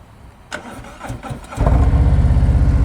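Motorcycle engine idling and running during slow-speed riding practice in California, a low steady rumble that swells louder midway as the throttle opens, with faint handling clicks before, no talking.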